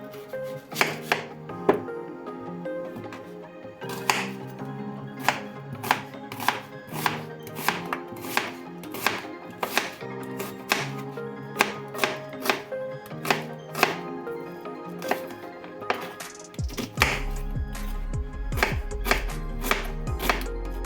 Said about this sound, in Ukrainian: Перш за все нарізаю дві великі цибулини.